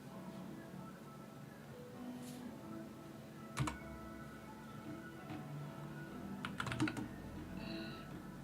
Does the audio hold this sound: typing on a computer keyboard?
yes